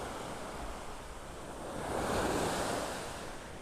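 Ocean surf washes onto the beach at North Naples, Florida in early morning, a broad steady roar that swells louder midway as a wave breaks, mixed with wind rumble on the microphone and no voices.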